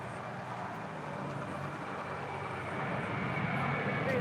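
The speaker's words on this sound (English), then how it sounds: "That is the Korean Air 747-8 departing there on the north side on 24 left" Korean Air Boeing 747-8 departing on runway 24 left, a steady broad jet roar that swells slightly toward the end.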